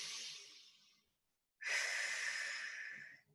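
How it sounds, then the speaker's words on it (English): A slow deep breath during a shoulder and chest fitness class: a soft, airy inhale fades out, then after a short pause a louder, rushing exhale follows, close and clear with no talking. "Take a deep breath."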